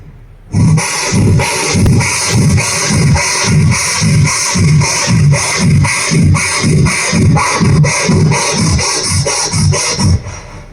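A voice mimics a hacksaw cutting through pipe, with steady back-and-forth rasping strokes repeated rhythmically for about ten seconds, loud and close.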